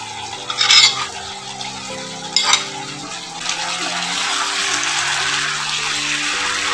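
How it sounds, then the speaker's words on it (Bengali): Fried onions are tipped into a pan of doi begun, eggplant in yogurt sauce, with two brief scraping clatters of a utensil, then a soft continuous bubbling simmer that builds toward the end. "এখন আমি এই পেঁয়াজের বেরেস্তাটা দিয়ে দিচ্ছি।"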